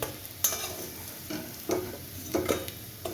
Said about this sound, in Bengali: আমার কোপ্তাগুলো ভাজা হয়ে গেছে, আমি এগুলোকে তুলে নিচ্ছি।